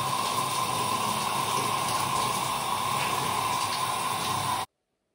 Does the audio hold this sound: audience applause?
no